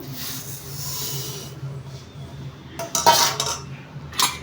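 Flattened rice payasam being stirred in a pot with a metal spoon, giving soft scraping with a few sharper clinks and knocks toward the end, close by and with no talk.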